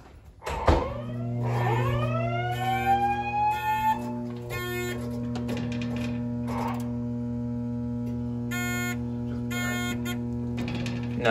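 A Simplex 4100+ fire alarm system sounds during a test, giving a loud, steady electronic tone that holds throughout, with brighter pulsing bursts layered over it.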